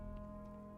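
Rain falls in the Starfield video game, a brief, faint, steady wash of drops under a constant low hum, with no one speaking.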